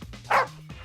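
A dog gives a single loud, sharp bark near the middle, close by, with low background hum and no talk.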